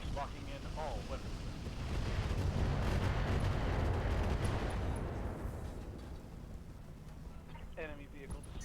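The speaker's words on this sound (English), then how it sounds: "Locking in all weapons." Heavy weapons fire in the BattleTech Roguetech mech video game roars as a dense, sustained rumble of booming blasts, with a voice speaking briefly at the start and end.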